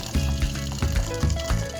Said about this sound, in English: If they are cooked, then strain the noodles and discard the water.